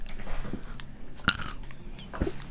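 A crunchy spicy barbecue snack is bitten with one sharp, close crunch, followed by softer chewing crackles and a second smaller bite.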